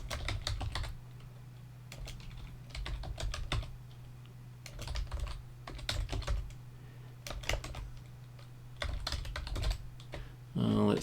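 Computer keyboard typing in quick clustered bursts with short pauses as git config commands are entered, close and moderately soft, with a faint voice in the background.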